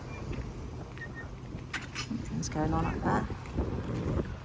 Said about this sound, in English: Always very windy here.